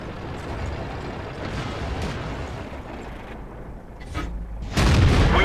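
A tank gun fires in the World of Tanks video game: a single loud, close boom bursts near the end, after a stretch of steady engine and battle rumble.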